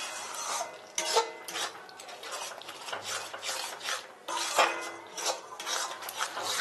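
A spoon whisks sour yogurt (curd) in a bowl, close up: a steady scraping and rasping stir with regular strokes and a few sharper clinks against the bowl, with no voices.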